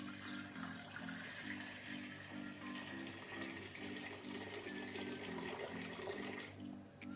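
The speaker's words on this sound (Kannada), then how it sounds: "ಸೊ ಇದಕ್ಕೀಗ ಬೇಕಾದಷ್ಟು ನೀರು ಸೇರಿಸ್ಕೊಳ್ಳುವ." Water pours steadily from a tap into a pressure cooker holding sweet potato, a continuous faint splashing and gurgling stream that runs for several seconds with no voices.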